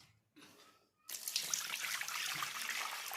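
Water pours steadily from a tap onto homemade butter being rinsed clean, a faint trickle at first and then a loud continuous flow.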